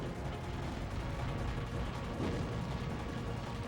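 Dense, rumbling gunfire and mechanical clatter from the video game Hybrid Heaven, a continuous heavy roar of shooting with no voices present.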